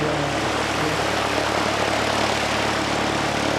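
A Cessna light aircraft's propeller engine drones steadily and loudly, close by, on a windy day at a Canterbury aero club runway, with a constant broadband roar and low engine hum throughout and no voices.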